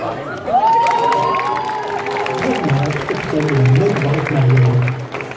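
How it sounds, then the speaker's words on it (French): A crowd at a cosplay contest in Nantes claps and cheers with a few whoops, steady and lively throughout. "Et on l'applaudit bien fort."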